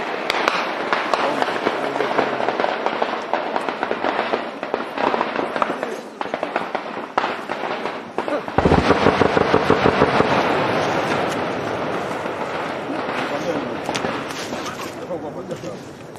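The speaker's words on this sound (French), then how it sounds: "Bombe RPG ya adui." Enemy RPG rocket explosions in a Congolese conflict zone, a dense barrage of blasts and cracks rolling continuously, with a heavy, loud burst near the middle, and voices mixed in throughout.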